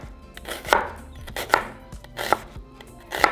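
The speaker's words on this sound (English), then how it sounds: "we're going to start by cutting the onion in half, and we're going to slice it down in half moons" A kitchen knife slices a halved onion into half moons on a cutting board for a breakfast torta, giving four crisp, evenly spaced chops up close with no talking.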